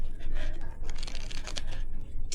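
Playing cards shuffled during a card game in a British sitcom scene: a dry, papery riffling rustle that runs steadily for a couple of seconds, close and moderately loud, with no talking.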